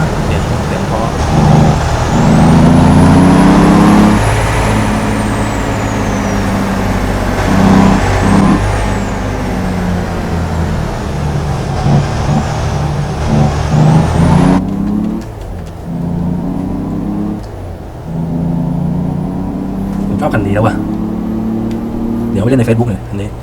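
A Freightliner Argosy tractor truck engine drones and rumbles on the road with a few sharp air-brake-like hisses, while people talk over it for much of the time.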